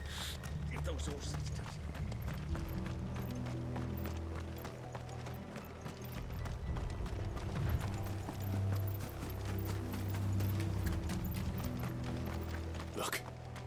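Horse hooves clip-clop steadily through a medieval-fantasy scene in the video game Final Fantasy XVI, a continuous rhythmic trot under music and low rumble, with some speech over it.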